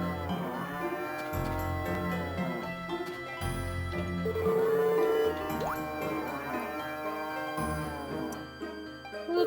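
Cow in a video game lowing several times, with long, drawn-out moos separated by short pauses and backed by faint dripping and squishy game effects.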